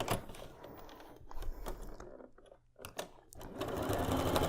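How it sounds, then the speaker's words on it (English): A sewing machine runs a quarter-inch seam on a quilt block in steady rapid stitching, pausing briefly mid-run before starting up again, close and alone. "I'm going to go ahead and sew a 1/4 inch on each side of that drawn line"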